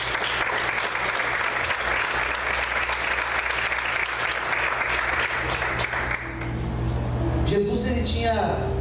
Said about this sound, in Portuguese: Você pode aplaudir o Senhor para mim?